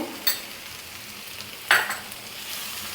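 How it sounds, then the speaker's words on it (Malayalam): Ground fennel and garam masala are stirred into beef masala frying in a pan, a faint continuous sizzle with two brief scraping strokes from a utensil, heard up close with nobody speaking. "അതുകൂടെ ഇട്ട് നന്നായിട്ട് മിക്സ് ചെയ്ത് കൊടുക്കാം"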